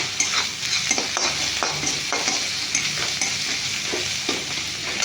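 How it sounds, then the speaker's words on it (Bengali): Ginger and garlic fry in a pan with a constant near sizzle and repeated scraping and tapping of a stirring spoon at an uneven rhythm, with no talking. "আদা রসুনটাকে একটুখানি ভেজে নেবো"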